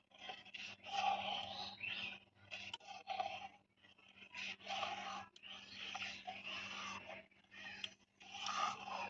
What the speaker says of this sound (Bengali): ভালো করে নাড়িয়ে দিচ্ছি যাতে তলায় লেগে না যেতে পারে।